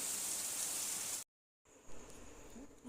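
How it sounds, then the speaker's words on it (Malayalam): Dense, steady hiss of heavy rain pouring down, briefly cut to silence, then resuming slightly softer with a few louder splashes. "ഭയങ്കര ശക്തിപ്പെട്ട മഴയാട്ടോ ഭയങ്കര മഴയാണ്"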